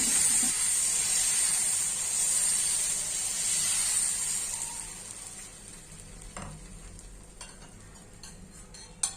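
Bottle gourd dosa batter spread across a hot tava gives a loud, steady frying sizzle with steamy hiss that gradually fades and thins, ending with a few faint clicks and a brief knock.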